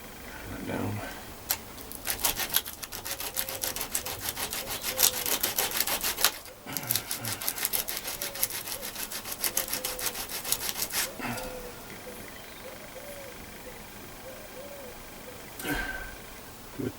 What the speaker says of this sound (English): Bit of sanding